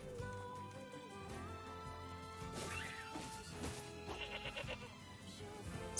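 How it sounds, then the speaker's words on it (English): Sheep bleat in short wavering cries over a busy NieR Replicant game soundscape, with thuds and smashing impacts mixed in; no one speaks. "So, while I clear out most of these sheep"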